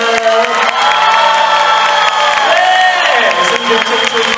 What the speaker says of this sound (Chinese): 给自己一个掌声加尖叫声！